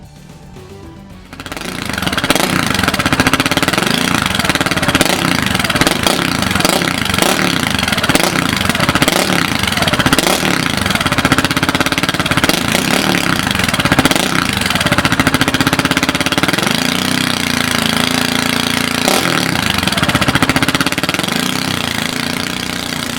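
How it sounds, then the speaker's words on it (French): A KTM Duke 690 motorcycle with a GPR Deeptone exhaust starts and idles loudly close by, its single-cylinder thump steady with occasional revs and no talking. "le son de ce fameux système Deeptone est autrement plus expressif que celui d'origine"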